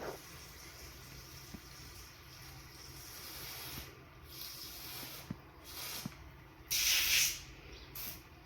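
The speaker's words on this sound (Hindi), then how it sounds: "ड्रिलिंग करके उनमें दवाई स्प्रे किया" Termite pesticide being sprayed into holes drilled in the soil, a quiet steady hiss of spray under a low background hum, with a few soft clicks and a louder burst of spraying near the end.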